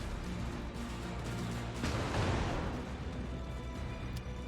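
A dive bomber attack in a naval combat game brings a sustained roar of engine noise and anti-aircraft fire, then a heavy burst of explosion around the middle, with sharp cracks throughout and no talk.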